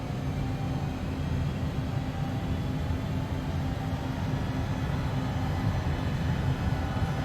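Steady, dense roar of ERJ 145 jet engines at power in the X-Plane 11 flight simulator, a continuous broadband rush with a low hum that holds level throughout.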